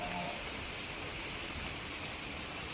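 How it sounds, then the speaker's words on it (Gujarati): Steady rain pours down, a dense even hiss with occasional louder drips on a surface, continuous throughout with no voices. "વરસાદ ફૂલ ચાલુ રહ્યો"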